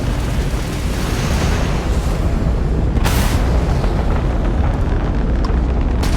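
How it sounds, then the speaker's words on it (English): Crimson Fleet ship firing its weapons in Starfield space combat: a continuous roaring, explosive rumble with one sharp blast standing out partway through, loud and dense, with no voices. "that's a Crimson Fleet ship bringing its weapons to bear"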